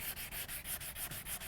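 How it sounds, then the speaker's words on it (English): Wet sanding of auto body paint prep by hand with 220 grit sandpaper in a crosshatch pattern, a close, steady rhythmic rasping of back-and-forth strokes with no talk. "I'm using 220 wet, and I'm using a crosshatch pattern, which means I'm going like making an X."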